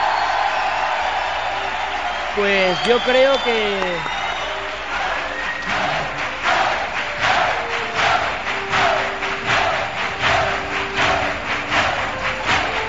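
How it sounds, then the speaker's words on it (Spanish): A packed theatre audience at the Teatro Falla in Cádiz claps and cheers in a rhythmic, pulsing ovation while someone speaks over the start of it. "El teatro se va a caer con estos aplausos"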